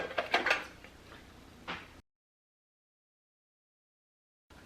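A plastic liquid dispenser bottle from a Dollar Tree haul snaps shut with a few quick, close plastic clicks and clacks, followed by silence.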